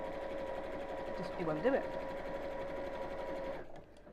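An Elna 570A sewing machine stitches a cushion cover with a steady, close mechanical whir, running continuously until it stops near the end, while someone talks over it.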